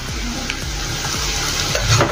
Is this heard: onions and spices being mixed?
yes